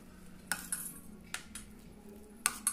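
A spoon clinks and scrapes against a small cup while mixing condensed milk truffle filling for a cake, a few sharp metallic taps over quiet background, no talking.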